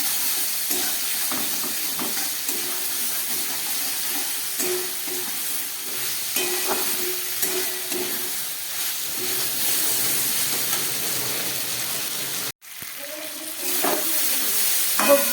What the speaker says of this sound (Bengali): সবজিগুলো সমস্ত ভাজা হয়ে গেছে।